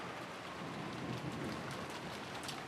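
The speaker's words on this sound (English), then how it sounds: "disappeared beneath the sound of the rain" Steady rain in the visual novel Umineko forms a dense, even hiss throughout, moderately loud with no voices.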